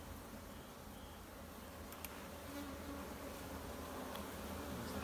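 Honeybees from a wild colony buzz inside a hive box during re-homing, a steady, dense insect drone held close and continuous throughout, with no voices.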